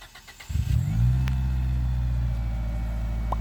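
A turbocharged Eagle Talon TSI AWD engine cranks and catches, then settles into a deep, steady rumbling idle, loud and close, with no voices.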